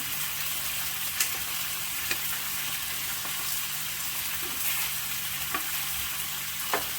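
Vinegar being stirred into a fish mixture in a pan gives a steady soft sizzle with faint scraping, plus a few brief sharp utensil clicks spread across the span and no voices.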